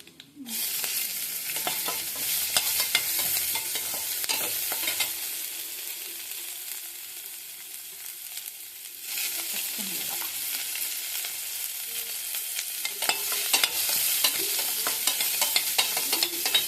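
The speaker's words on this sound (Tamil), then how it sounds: "பொரியட்டும்." Vegetables for a masala fry steadily in a hot pan, giving a dense, constant sizzle with bursts of stirring and scraping that briefly drop away and then return.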